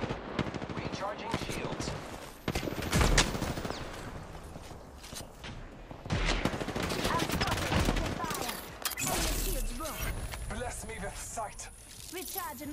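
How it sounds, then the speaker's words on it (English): Enemy gunfire in Apex Legends, with dense machine-gun bursts and single cracks repeating across the scene, mixed with mechanical clicks and game effects while a voice speaks briefly. "The enemies are shooting at us"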